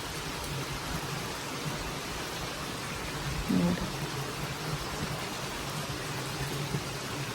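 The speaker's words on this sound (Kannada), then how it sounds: "ಮಳೆ ಒಂದು ಚೆನ್ನಾಗಿ ಬರ್ತಾ ಇದೆ" Steady rain falls outside a village house, a continuous broadband hiss that holds evenly throughout, with a brief voice heard midway.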